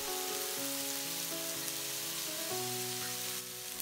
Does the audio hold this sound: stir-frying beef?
yes